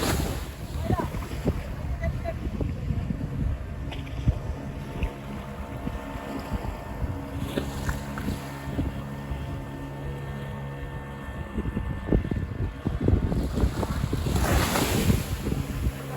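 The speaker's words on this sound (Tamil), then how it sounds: "ஒரு போட்டுக்கு மேல இந்த கிடுகெல்லாம் கவுட்டு வச்சு அதுக்கு மேல இன்னொரு போட் ஒன்று கவுட்டு கொண்டு வராங்க." A boat arriving with another boat carried upside down on top of it and loaded with palm-frond thatch, in Jaffna; a steady engine drone under wind and waves runs throughout, with a voice talking over it.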